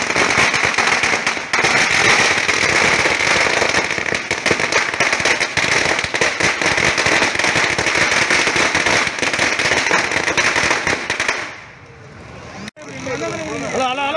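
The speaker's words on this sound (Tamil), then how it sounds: "அதிமுகவினர் பட்டாசுகள் வெடித்தும் இனிப்புகள் வழங்கியும் கொண்டாடினர்" Firecrackers burst at an AIADMK party celebration outside a head office in Uppalam, Puducherry, a dense, loud, nonstop crackling barrage that fades near the end, followed by a brief pop.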